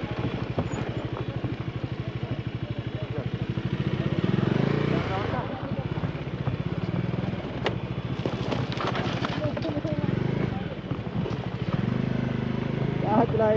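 Motorcycle riding over a badly broken road, its steady engine drone loud throughout with bumps and clattering jolts from the rough surface, while people talk over it.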